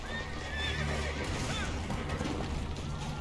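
A horse in Assassin's Creed Brotherhood neighs with a bright, rising whinny over a dense in-game background of hooves and ambient bustle, close and fairly loud.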